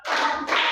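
Primary-school pupils in a classroom clap in unison, two quick dense rounds of many hands close together, loud and brief.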